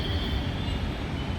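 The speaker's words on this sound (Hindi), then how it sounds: "और ये देखिए ऊपर ये मेट्रो ट्रेन चल रहा है" A metro train runs overhead on an elevated track, a steady dense rumble of wheels on rails heard from below for a short moment.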